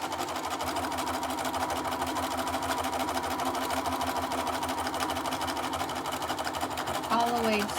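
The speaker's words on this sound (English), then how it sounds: "I'm going to go ahead and just stitch all the way across again" A sewing machine runs continuously and evenly while stitching straps across a dress. The whirring motor is close and loud throughout, with a brief squeak near the end.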